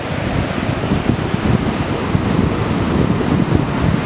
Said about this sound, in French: il y a déjà des vagues qui cassent